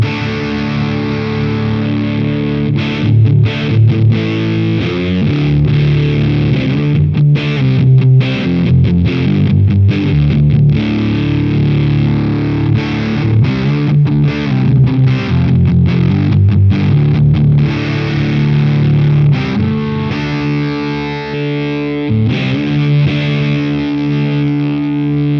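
Electric guitar driven through a Way Huge Swollen Pickle Jumbo Fuzz MkIII with its scooped-mids switch engaged, a thick, continuous fuzzy riff played loud and close for the whole stretch, no voices.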